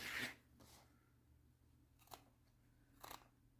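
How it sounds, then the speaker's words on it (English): Small scissors snip embroidery threads on a baby onesie, producing four faint, separate clicks spaced irregularly over a quiet background. "I just try to trim as close as I can without cutting the garment"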